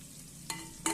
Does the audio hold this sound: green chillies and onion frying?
yes